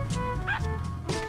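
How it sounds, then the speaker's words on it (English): A puppy barks in GTA 5 Online, a few short yappy barks over a steady game background hum. "I just got killed by a dog."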